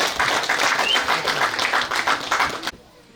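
Wedding guests clap together in a dense, steady burst of applause lasting under three seconds before it cuts off sharply into near quiet.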